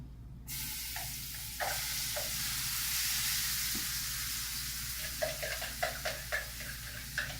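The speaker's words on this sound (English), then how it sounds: "We're gonna put it on the hot pan with the boiling oil." Tomato, onion and garlic hit hot oil in a pan with a sudden loud sizzle that hisses steadily, followed by a run of crackling pops and stirring scrapes toward the end.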